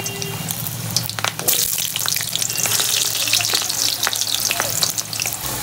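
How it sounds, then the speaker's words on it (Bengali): Potatoes deep-fry in hot oil for a mixed vegetable curry, a continuous bright sizzle and crackle with occasional stirring clinks and splashes, close up and steady throughout, no talking. "তো দেখো তেলটা গরম হয়ে গেছে, এবার প্রথমে আমি আলুটা ভেজে নেব।"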